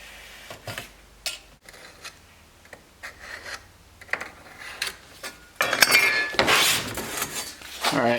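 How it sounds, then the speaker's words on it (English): A tool scrapes lines into metal for a Dodge Viper exhaust mount, in short intermittent scratching strokes that grow louder and denser near the end. "I got some lines scraped into the metal"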